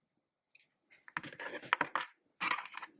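Scissors snip through strands of blue and black yarn during a crochet doll-eye project, a few short crisp cuts clustered close together with brief pauses between them.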